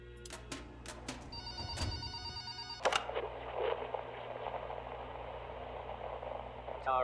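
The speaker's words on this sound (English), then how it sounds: "I hear a phone." In the video game Transliminal, a telephone rings with a few sharp trilling rings over a steady low hum and engine-like drone, then fades into a noisy ambient wash as the ringing stops.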